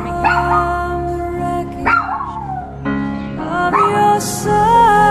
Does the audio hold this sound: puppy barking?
yes